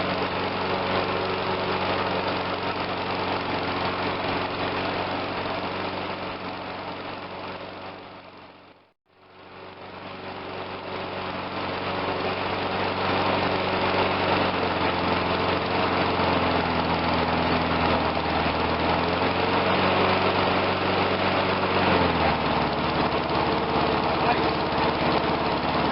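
A Briggs engine on a Murray 22-inch push mower runs close and loud, briefly dipping to near silence before settling into a steady idle, with a slight pitch shift near the end.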